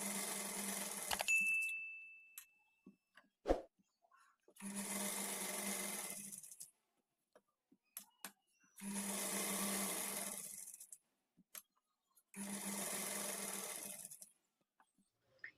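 A sewing machine stitching a fall onto a saree, running in four steady whirring bursts of about two seconds each with short pauses and small handling clicks between them.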